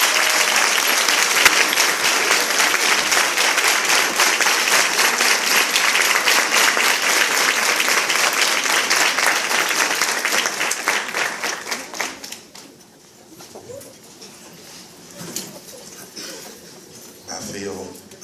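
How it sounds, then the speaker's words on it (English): An audience at a 100 Black Men gathering at MTSU gives Larry Chrisman a warm round of applause, loud sustained clapping for about twelve seconds that then thins out into a quiet room. "give a warm round of applause for Mr."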